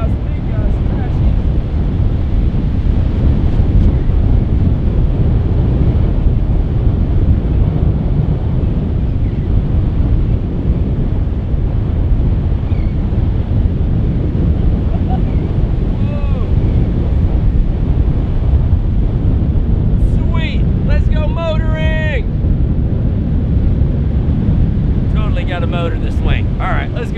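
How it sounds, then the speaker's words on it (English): Strong wind of about 26 mph with 35 mph gusts roars steadily into the microphone on a beach, loud and continuous, with faint high chirping sounds briefly near the end. "we got about 26 mile an hour base wind, 35 mile an hour gusts or so"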